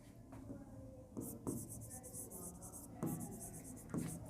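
Close, scratchy pen strokes of a question being written by hand, continuous rubbing scrawls broken by brief pauses and sharper tapping marks, with a faint voice murmuring underneath.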